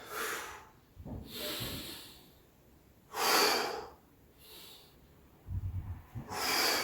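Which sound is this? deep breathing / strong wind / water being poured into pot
deep breathing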